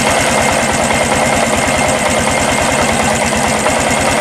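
A Honda Supra X 125 PGM-FI motorcycle engine idles close and loud with the throttle held, giving a steady, even chug of rapid low pulses with no pauses.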